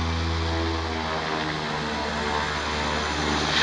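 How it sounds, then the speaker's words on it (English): A propeller airplane revs its engines before takeoff on a mountain airstrip, a steady, loud, droning roar with a strong low hum that holds throughout, no voices over it. "And it's going to rev its engines for a few minutes."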